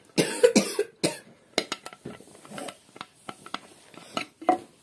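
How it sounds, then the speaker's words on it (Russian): Several sharp coughs burst out near the start, followed by scattered clinks and light knocks of a medicine bottle with a thick plastic cap being handled, fairly close. "Кто кашляет?"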